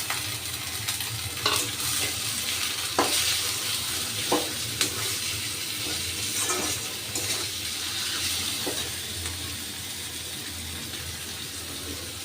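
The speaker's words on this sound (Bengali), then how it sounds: "চিকেনের সাথে ক্যাপসিকামগুলো আমি খুব ভালো করে ভেজে নেব" Chicken paste frying with capsicum in a pan, a steady loud sizzle punctuated by a handful of sharp spatula clacks and scrapes against the pan, close up with no talking.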